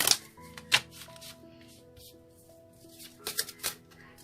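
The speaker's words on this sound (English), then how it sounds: "One more shuffle, they say." A deck of tarot cards shuffled by hand, sharp papery riffles and slaps in uneven bursts close to the listener, with quieter rustling between them and a faint background tone.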